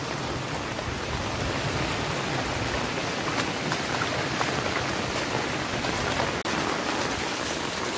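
Floodwater rushes under full pressure across a highway at Lakhani, a dense, steady roar of churning water that fills the whole clip without pause.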